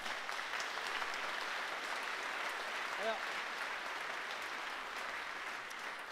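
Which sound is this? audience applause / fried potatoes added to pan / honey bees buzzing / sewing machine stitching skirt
audience applause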